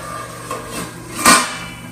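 A metal lid is set onto a cooking pot of masoor lentils for dum biryani, a sharp close clank standing out after a couple of softer knocks against the rim.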